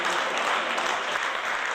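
Stadium crowd at a Coppa Italia football match between Nuorese and San Teodoro applauding a substituted player, a steady, close, dense burst of clapping with no voices over it.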